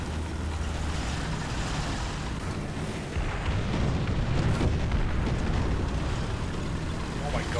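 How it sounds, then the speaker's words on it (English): Artillery shells burst in War Thunder as a steady, heavy rumble of explosions and booms near a tank battle, with a louder swell midway and someone talking over the din. "the artillery going on A"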